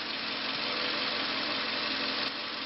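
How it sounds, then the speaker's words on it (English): A 2007 Toyota Camry engine idles in a smooth, even drone, steady and unbroken throughout with no voices. "This is a 2007 Toyota Camry."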